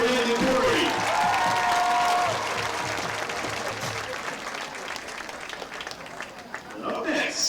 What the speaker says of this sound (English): A round of applause for Anna Novak and Brandon Corey.